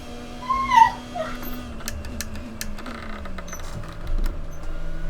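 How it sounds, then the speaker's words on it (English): A puppy whimpers for attention in a room, thin high-pitched whines and a short squeal near the start over a steady engine drone from a racing game, with faint clicks scattered throughout. "Sean's pup wants attention."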